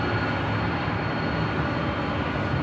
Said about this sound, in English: Here on the north side is JetBlue Airways Flight 707 coming in from Seattle